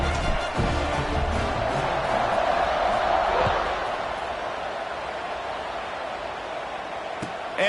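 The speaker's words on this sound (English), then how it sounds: "this crowd is buzzing after that last score" A stadium crowd buzzes in a college football video game, a broad, steady roar after a Wake Forest scoring play. It swells at first, then eases to a softer murmur under a commentator's voice.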